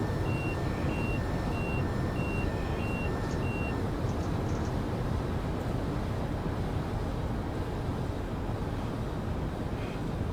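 Emergency brake alarm in a Class 395 train simulator cab: a repeating electronic beep pulses steadily for about four seconds, then stops, over a constant loud rumble of the train running at speed.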